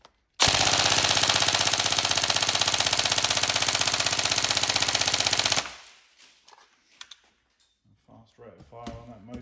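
A Tokyo Marui M4 URGI Next Gen airsoft electric gun fires a long, loud, unbroken full-auto burst at a very fast rate, then cuts off into quiet handling noises.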